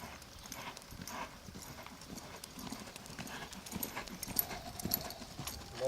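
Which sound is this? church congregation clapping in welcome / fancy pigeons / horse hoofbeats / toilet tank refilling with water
horse hoofbeats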